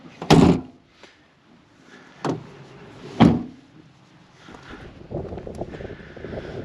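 A 1993 Toyota Land Cruiser 70 Series HZJ77 camper being closed up: three loud thumps of panels and doors shutting, spaced a second or two apart, then softer rattling and shuffling.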